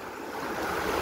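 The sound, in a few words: sea waves at the shore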